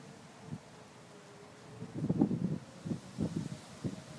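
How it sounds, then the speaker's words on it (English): Strong gusts of wind roar during a thunderstorm, rising in several rough bursts against the microphone, while a faint siren tone holds steady far behind. "Oh my god, it is windy."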